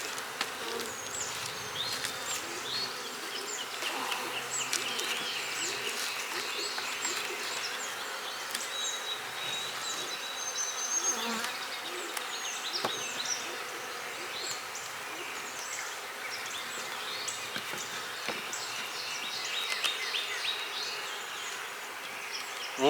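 Honey bees swarm around a beehive during hive splitting, giving a steady, dense buzzing drone that stays fairly faint and constant throughout with no talking.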